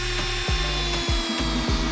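A power drill drives screws into wood for a homemade bike stand, giving close, loud, rhythmic ratcheting clicks that repeat about three times a second over a constant motor drone.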